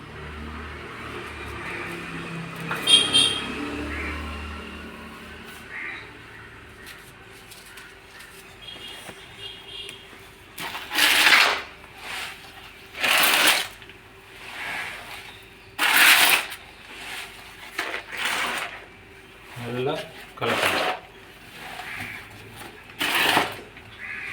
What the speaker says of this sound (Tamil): எல்லாத்தையும் சேர்த்து மொத்தமாக கலக்கிறோம்